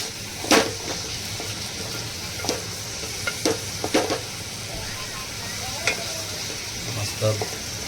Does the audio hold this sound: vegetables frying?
yes